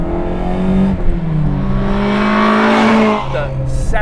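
A Toyota AE86 fitted with a Honda F20C engine revs hard and loud from inside the car, its high-pitched engine note climbing and shifting through steady rising pulls before dropping briefly near the end.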